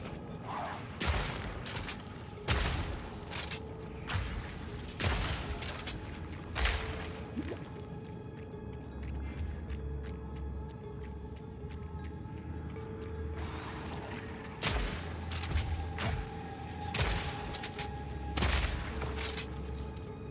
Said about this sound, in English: Being in tight corridors and having a shotgun is great.